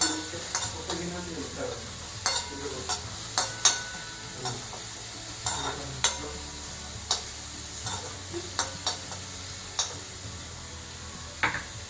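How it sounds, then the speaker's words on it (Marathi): Sliced mushrooms fry with garlic in ghee in a pan, a soft continuous sizzle broken by frequent sharp clicks and scrapes of stirring, close and fairly quiet. "थोडासा ब्राउनिश झाला की मग त्यामध्ये मशरूम ऍड करायचे"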